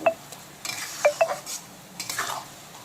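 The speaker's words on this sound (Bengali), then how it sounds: "এই পুরো মশলাটাকে কষিয়ে একেবারে ভাজা ভাজা করে নেব" Spice paste for a pomfret curry being stirred in a pan over low to medium heat, with a few distinct metal clinks and scrapes of a spatula against the pan over faint background noise.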